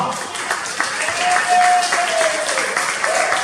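A church congregation claps and cheers together, a steady wash of applause that swells slightly in the middle while a voice carries over it.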